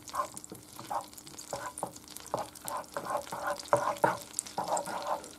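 Butter melting in a pan for a white sauce gives a soft, steady sizzle with repeated bubbly crackles and light stirring, close but fairly quiet, with no voice.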